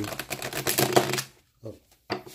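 A quick, dense riffle of shuffling cards for about a second, followed by near silence and a couple of brief soft rustles.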